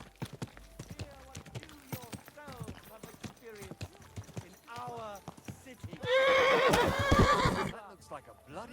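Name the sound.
horse neighing in Kingdom Come Deliverance 2 video game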